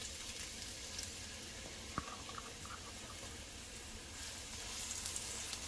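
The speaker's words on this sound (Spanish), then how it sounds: "Vamos a guisar cebolla." Half an onion sizzles in a frying pan, a soft, steady hiss that stays faint and even throughout, with one small click partway through.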